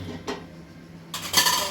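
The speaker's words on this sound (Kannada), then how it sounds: "ಬಾಣಲೆ ಇಟ್ಕೊಳ್ಳೋಣ." A metal kadai is set down on a kitchen stove, giving a couple of short, sharp metallic clanks and scrapes close by. No one speaks.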